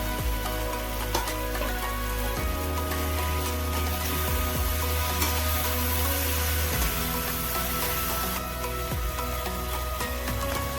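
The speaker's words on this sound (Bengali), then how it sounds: "এখন আগে ভাজা ডিম আর ভাজা আলুগুলো দিয়ে মশলাটা ভালো করে কষিয়ে নেব।" Fried eggs and fried potatoes sizzle loudly in a spice paste in a pan for Bengali egg curry, a dense continuous crackle with faint stirring scrapes and no talking.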